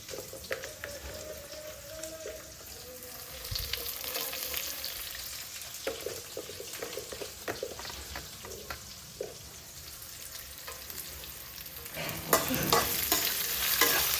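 Onions and green chillies frying in a pan for mango rice, a crackling sizzle like light rain under repeated spatula stirs and scrapes, close by and gradually busier toward the end, with no voices.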